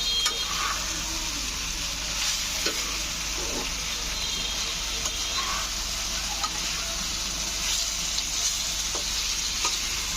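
A curry of mutton, eggplant and small fish frying in a pot gives off a steady, continuous sizzle with occasional clinks and scrapes of stirring, close and even throughout with no talk.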